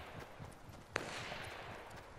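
A single sharp sniper shot cracks once, mid-distance, in a Fortnite Battle Royale duo match, standing out above a steady background wash of game ambience.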